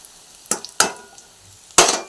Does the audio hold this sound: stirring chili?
yes